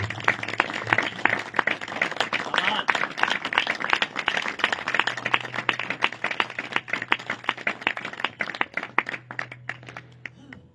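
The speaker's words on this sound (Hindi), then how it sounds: "खुदावंद यीशु के लिए जोरदार ताली बजाते हैं" Congregation at a Hindi church service clapping loudly for Jesus, a dense, rapid run of hand claps close and steady for about ten seconds before tapering off.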